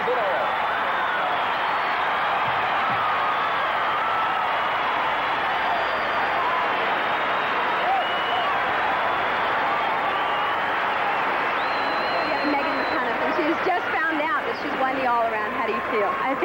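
An arena crowd of 8,000 at the 1983 NCAA gymnastics championships applauds and cheers in a continuous, even roar of clapping and voices, with a voice rising over it near the end.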